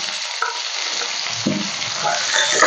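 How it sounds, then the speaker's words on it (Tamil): Steady crackling sizzle of chopped shallots frying in hot oil, with a few louder pops and stirring clatters near the end. "சின்ன வெங்காயத்தை சேர்த்து நல்லா வதக்கி விட்டுருங்க"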